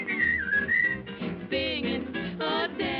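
A person whistles a bright, sustained melody in a 1941 film musical number, the whistled notes gliding and wavering clearly over an orchestral accompaniment.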